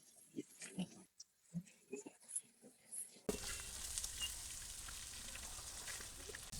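Shrimp hitting hot oil in a wok over a village cooking stove, a sudden steady wash of sizzling that takes over halfway through after quieter kitchen clatter.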